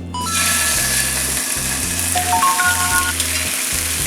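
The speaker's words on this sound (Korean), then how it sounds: "이렇게 이제 마늘도 구워지고 고기도 다 구워졌어요" Marinated pork maekjeok and garlic cloves sizzle loudly in a hot pan, a dense, steady crackle close by with scraping stirring noises and occasional clicks over it.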